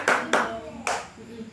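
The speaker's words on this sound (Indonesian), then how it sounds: "tepuk tangan, tepuk tangan" A small class of pupils gives a brief round of clapping in three quick bursts, close and fairly light, each fading quickly in a classroom.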